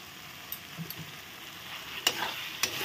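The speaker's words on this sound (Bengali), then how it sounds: "ভালো করে কষিয়ে নিচ্ছি মশলা। একটু কালার হওয়ার জন্য লঙ্কা গুঁড়ো দিয়ে দিলাম" Spices and chili powder frying and being stirred in a pan for a bhola fish curry, a steady sizzle with a few sharp scrapes of the spoon against the pan, close and clear with no talking.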